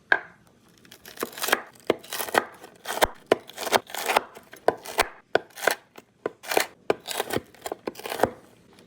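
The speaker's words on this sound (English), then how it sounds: "Chop up the bacon for the mashed potatoes." Bacon is chopped with a knife on a cutting board in a quick, uneven run of crisp, close thuds, with a few short pauses between bursts of cuts.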